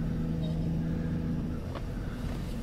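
Car engine idling low and steady as the vehicle slowly reverses out of a parking spot beside a large bus at night, a close, constant rumble with no voices.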